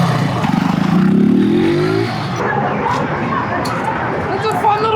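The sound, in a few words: Benelli motorcycle engine revving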